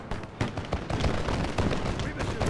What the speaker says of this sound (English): We are receiving some return fire.